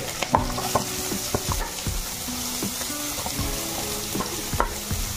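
Onions frying in a pan with cumin, bay leaf and dried chili give a steady sizzle broken by repeated spatula clinks and scrapes against the pan, close and fairly loud.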